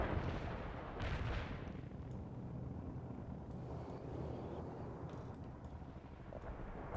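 Heavy artillery barrage in the strategy game World in Conflict, a continuous dense rumble of distant booms and blasts rolling together, with a louder thump early on and no clear voices.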